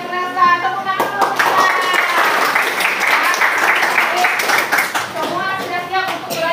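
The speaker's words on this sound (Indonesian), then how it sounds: "Tepuk tangan dulu." A junior high classroom of pupils bursts into a few seconds of group hand clapping, loud and close, with a teacher's voice speaking before and after.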